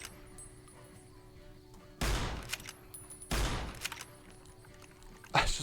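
Gunfire in Fallout New Vegas: two loud, sharp shot bursts with ringing tails about a second apart, followed by a third burst at the end, over a quiet ambient hum.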